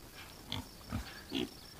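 Idaho pasture pig cross pigs in a hot sunny pasture give three short, soft grunts spaced about half a second apart, fairly close over a faint outdoor background.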